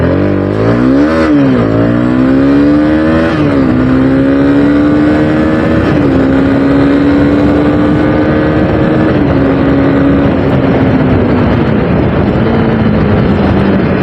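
A Honda CB300R motorcycle, a light 300cc bike, accelerating hard through the gears, its engine revving loud and close with pitch climbing and dropping at each shift, no talk.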